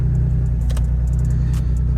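A Nissan G35/350Z idles steadily with a low droning engine hum as it sets off on a test drive after a front wheel hub bearing replacement. Light metallic clicks and jingles sound faintly over the engine.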